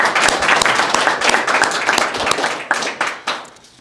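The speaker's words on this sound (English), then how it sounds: "So let's give a round of applause for all of them." An audience at a historical museum society's publications awards ceremony applauds with dense, steady clapping that thins toward the end into a few separate claps.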